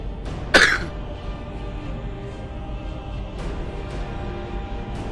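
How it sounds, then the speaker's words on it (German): A single sharp, loud cough bursts out close to the microphone, followed by quieter throat sounds over steady background noise from a game. "entschuldigt den Husterer"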